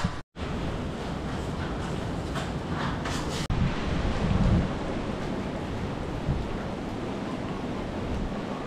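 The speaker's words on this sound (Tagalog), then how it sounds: "Malakas lang ang hangin niya mga kasoward." Strong wind roars steadily around a house under construction, a dense rushing noise with a brief dropout near the start and a sharp knock partway through.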